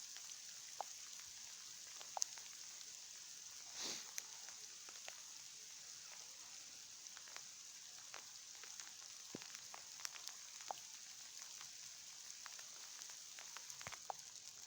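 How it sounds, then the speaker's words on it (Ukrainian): Soft, steady patter of rain mixed with sleet, with scattered drips and ticks, quiet and continuous with no voices. "І при цьому активно капає дощ навіть зі снігом."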